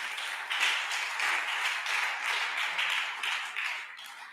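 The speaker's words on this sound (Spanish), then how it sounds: "Dele un aplauso a Dios" A church congregation applauds, a dense, steady wash of many hands clapping together that holds at an even loudness for several seconds before easing slightly at the end.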